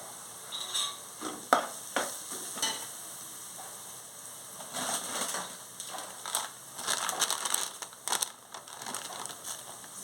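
Fish curry with turmeric and chili stirred in a pan, soft scraping and clattering strokes in irregular bursts over a faint sizzle, close and fairly quiet.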